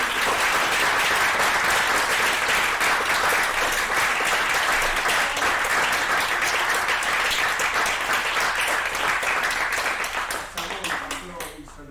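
Audience applause at a Christmas aikido-judo training session in Vittorio Veneto: a dense, sustained burst of many hands clapping that holds steady and then thins out near the end.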